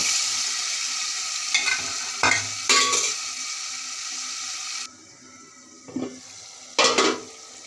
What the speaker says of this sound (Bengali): মশলাটি কষানো হয়ে আসছে এর মধ্যে আমি আমার এই বিচিগুলো দিয়ে দেব